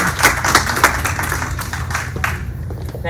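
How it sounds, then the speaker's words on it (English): A few people at a town hall meeting clap, with several distinct close hand claps at the start followed by thinner, scattered clapping over a low background hum. "Give him a round of applause."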